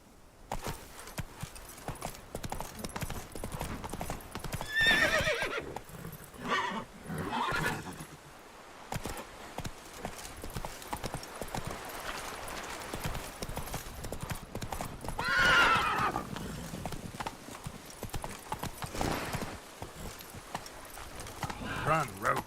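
Roach the horse in The Witcher 3 gallops with continuous rapid hoofbeats and gives loud neighs around the middle and later, while people talk intermittently over the game sounds.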